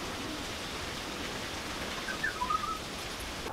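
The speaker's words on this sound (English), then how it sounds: "It's nasty, raining outside." Steady rain falls outside, a constant even hiss with faint bird chirps briefly over it near the end.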